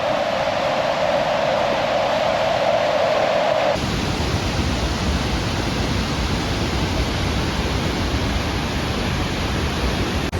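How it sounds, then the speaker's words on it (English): Waterfall pounding beside a creek on a winter hike, a steady, loud broadband roar of falling water that fills the whole clip and deepens partway through as the falls come closer. "I can hear the falls pounding"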